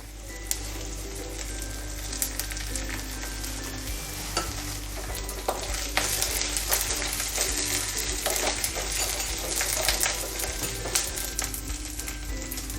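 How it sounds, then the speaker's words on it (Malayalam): Drumstick leaves stirred into softened onions frying in a pan for a Kerala-style curry, giving a steady close sizzle throughout with irregular scraping and clinking from the spoon against the pan. "ഉള്ളി വഴന്ന് വന്നിട്ടുണ്ട്. അതിലേക്ക് മുരിങ്ങയില ഇട്ട് കൊടുക്കുക."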